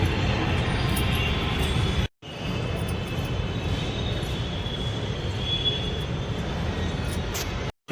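A metro train rumbles steadily at a station, a loud continuous roar with a faint high whine above it, cutting out briefly twice.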